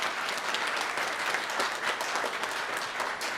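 Steady applause from an audience at a youth volleyball awards ceremony, a dense continuous patter of clapping hands lasting a few seconds with no talk over it.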